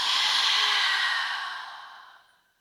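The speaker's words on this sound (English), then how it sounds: "Deep breath in through your nose." A single long, deep breath drawn in through the nose during a yoga flow, close and breathy, swelling quickly and then tapering off slowly toward silence.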